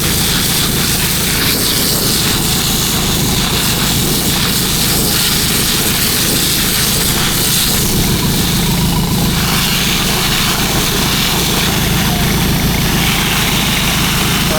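An engine-driven pressure washer runs steadily and loudly while fishing nets are washed at a South Korean workplace, a constant droning roar with no pauses throughout.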